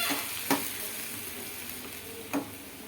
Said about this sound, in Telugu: ఈ గోంగూరని ఇందులో వేసి లైట్గా ఫ్రై చేయాలి